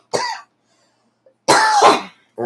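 Two harsh coughs break a quiet room, a short one followed by a longer, throatier one, close to the microphone and with no talking.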